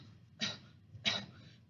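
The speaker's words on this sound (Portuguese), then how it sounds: "A defesa do pulmão é a tosse" Two short, soft coughs from one person, spaced about half a second apart, close and quiet with no talk.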